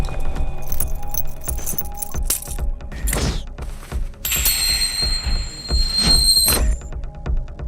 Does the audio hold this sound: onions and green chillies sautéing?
no